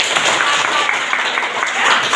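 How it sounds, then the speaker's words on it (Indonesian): Applause from a classroom of students during a Pancasila civics lesson, dense steady clapping for about two seconds with some voices mixed in. "Oke, beri tepuk tangan buat"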